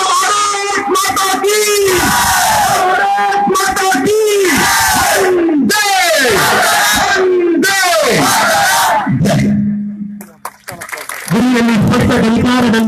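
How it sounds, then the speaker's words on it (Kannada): A large rally crowd roars chanted victory cheers in repeated rhythmic bursts, loud and close, led by a voice calling out between the waves of massed shouting, with a short lull near the end. "ಉಚ್ಚ ಕಂಠದ ನನ್ನ ಜೊತೆ ಜೈಕಾರ ಕೊಡಿ"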